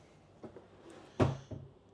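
Pull-out drawers in the kitchen of a 2025 Sprinter 3980FBS wide-body front-bunk RV being handled, giving a couple of soft knocks followed by a sharper, louder clunk and a smaller bump near the end, close by with no talking.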